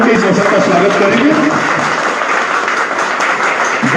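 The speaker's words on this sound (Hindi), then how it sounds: "जोरदार ताली बजा करके इस अवसर का स्वागत करेंगे।" Loud, steady applause from an audience welcoming a website launch for the people of Baikunthpur, sustained for several seconds with voices mixed into the clapping.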